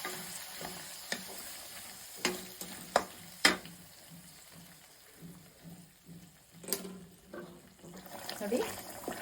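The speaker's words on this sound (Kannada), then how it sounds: "ನೋಡಿ ಹುಣಸೆಹಣ್ಣು ಮತ್ತು ಒಗ್ಗರಣೆ ಒಂದು 5 ನಿಮಿಷ ಕುದಿಸ್ಕೊಂಡಿದ್ದೀನಿ." Tamarind paste and tempering bubble in a pan for puliyogare mix, a fairly faint simmering hiss broken by loud metal spatula knocks and scrapes, with a brief splash of water near the end.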